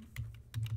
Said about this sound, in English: if I were to just take off caps lock and type